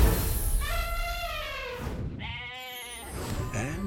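Goats bleat loudly nearby in a film trailer scene, with two long wavering calls separated by a short pause and a rustling farmyard background.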